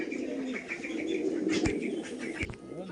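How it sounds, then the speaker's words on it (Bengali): Pigeons coo softly and steadily in a loft, including two female pigeons offered for sale, with low throaty calls repeating under faint wing flutters and occasional chirps. "দুটোই মাদা পায়রা আছে"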